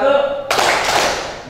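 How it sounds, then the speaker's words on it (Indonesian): Seventh-grade students in a classroom clap together in a sudden, loud burst of overlapping hand claps that follows a short spoken word and then tails off over about a second. "Tepuk 4 kali."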